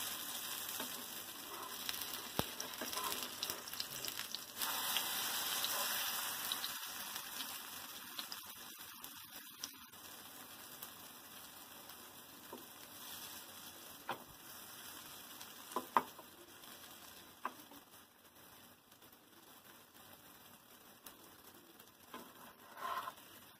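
Malpua frying in hot oil in a pan, a steady soft sizzle and crackle with occasional bubbling spurts and light stirring clinks, fairly quiet and close.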